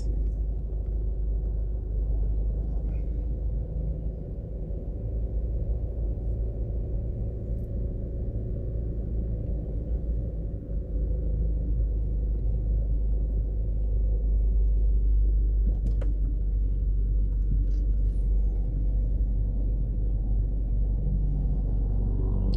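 Car driving slowly around a plaza in Half Way Tree, Jamaica, heard from inside: a steady low engine and road rumble runs throughout with no talking, plus a couple of faint brief clicks.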